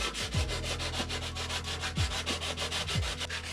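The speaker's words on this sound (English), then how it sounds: "we're just gonna get to sanding." Steady, close rasping of fine sandpaper rubbed back and forth over a rounded carbon fiber trim edge on a Genesis Coupe 3.8, in continuous rhythmic strokes with no talking.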